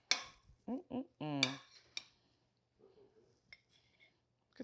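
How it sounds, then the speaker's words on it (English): A spoon mixes butter and shallots in a pan, giving a few sharp metallic clinks and scrapes in bursts, close by, with pauses of near silence between them. "I'm gonna use this spoon right here. Mix up some of that butter at the bottom."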